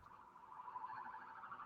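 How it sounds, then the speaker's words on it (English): A faint, distant wailing siren rises and falls in the background over a phone line, steady and thin, with no voices in the moment. "That's why I heard a siren in the background."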